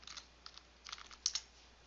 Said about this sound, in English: let me just type it correctly